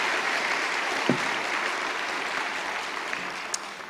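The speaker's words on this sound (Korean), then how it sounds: "큰 박수로 격려해 주십시오." A church congregation at a Sunday service gives steady, dense applause, sustained and even throughout with no voices over it.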